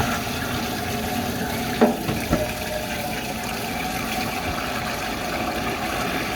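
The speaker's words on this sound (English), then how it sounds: "fill it up with water, see what happens" Water runs from a tap into a container in a steady, continuous rush, with a couple of brief knocks early on and no talking.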